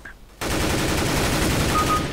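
Dense, sustained automatic gunfire in Counter-Strike: Global Offensive (CS:GO), a loud continuous rattle that bursts in suddenly after a quiet moment and keeps going to the end.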